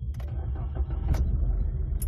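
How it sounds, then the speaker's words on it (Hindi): A Maruti Ertiga fitted with a new battery cranks and starts, the engine rumbling low and close with a few short clicks and rattles over about two seconds. "और गाड़ी हो गई स्टार्ट"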